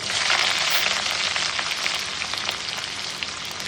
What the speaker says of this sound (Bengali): আমার ফোড়নটা ভাজা হয়ে গেছে, এবার দিচ্ছি পেঁয়াজ কুচানো